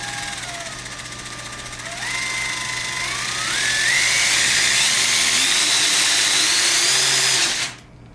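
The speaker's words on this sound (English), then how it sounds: "how slow you can have the Fusion Pro motor to crawl" An electric Fusion Pro motor whirs inside an SCX10 II RC crawler, a close, steady whine that rises in pitch in steps as it speeds up, then cuts off abruptly near the end.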